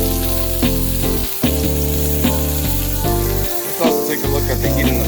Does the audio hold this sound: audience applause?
no